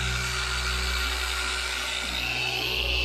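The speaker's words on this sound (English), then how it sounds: "This polisher does not like body lines at all." A car polisher fitted with an ultra fine pad whirs steadily on the paint of an Acura RDX, a continuous even motor drone with a high whine, close and unbroken.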